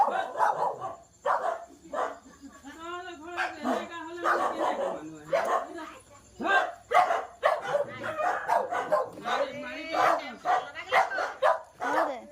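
Several dogs bark and yip close by in short, repeated bursts, mixed with people talking.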